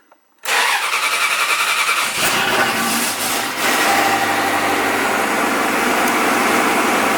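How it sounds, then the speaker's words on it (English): A Ferrari 360 engine cranks and catches after brief quiet, then settles into a loud, steady idle close by while the car sits on axle stands, with a slight dip in the roar partway through. "We've got a running engine."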